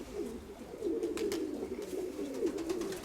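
A young pigeon and others kept in a loft coo softly in repeated low rolling phrases, fairly close and moderately quiet, with faint rustling between calls.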